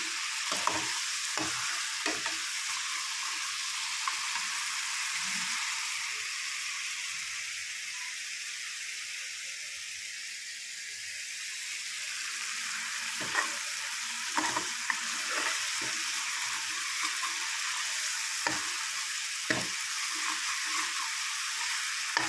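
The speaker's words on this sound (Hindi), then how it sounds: "ये देखिए हमारा मसाला पकने वाला है" Steady sizzling of spice masala frying in a pan for Rajasthani mangodi curry, a continuous hiss broken by occasional clicks and stirring taps, no talking.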